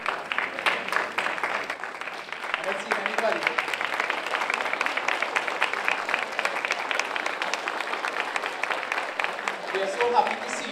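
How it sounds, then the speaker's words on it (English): Congregation or audience applause welcoming first-time visitors, dense continuous clapping from a crowd, with a voice speaking briefly over it. "the rest of us will give you a round of applause"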